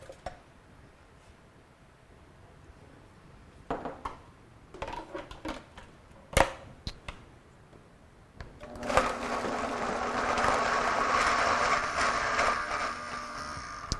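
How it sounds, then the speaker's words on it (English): A few clinks and knocks, then a blender motor kicks in with a loud, steady whirring grind that continues for several seconds, blending soaked ingredients with water. "now we're just gonna dump it all in the blender"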